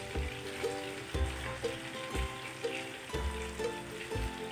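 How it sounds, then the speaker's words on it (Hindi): Chicken drumsticks sizzle in a pan over full flame, a steady close frying crackle with periodic low thumps and tonal clinks recurring about once a second. "अब 2 मिनट मैंने इनको इस तरह की फुल आंच पे इनको पकाना है।"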